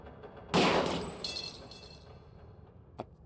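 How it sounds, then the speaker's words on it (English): A single sharp gunshot fired at a padlock in the Black Mirror video game, a loud broad crack with a shattering, breaking edge that rings briefly, followed by quiet and a small click near the end. "A perfect shot. The padlock is down."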